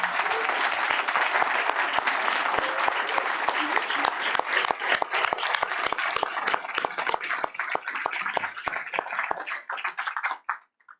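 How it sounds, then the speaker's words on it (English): Applause from a council meeting's attendees fills the room with dense, continuous clapping that lasts about ten seconds, then thins into a few scattered claps and stops. "I think that deserves a round of applause for Andy."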